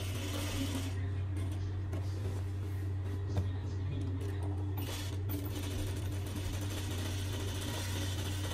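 A sewing machine stitches a dress in a steady, continuous mechanical hum with a rhythmic rattle, close and unbroken throughout, with faint background noise.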